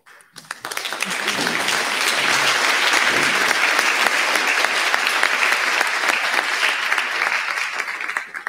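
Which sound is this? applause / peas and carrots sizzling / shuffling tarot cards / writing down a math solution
applause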